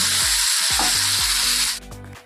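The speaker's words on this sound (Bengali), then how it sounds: "খুব ভালো করে ভেজে নেব। নুন হলুদ দেবো আর একটু জিরে গুঁড়ো দেবো" Food fries loudly in hot oil with salt, turmeric and cumin powder, a close, dense sizzle with a series of regular thumping knocks, then the hiss suddenly drops away near the end.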